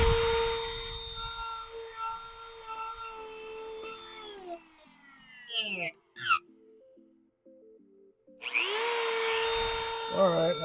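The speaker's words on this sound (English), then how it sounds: "I guess it's time to talk to Dremel about this tool." Dremel rotary tool whines steadily at high pitch while woodturning, then winds down and sputters before a short stretch of lower buzzing, and finally spins back up to a loud, close whine.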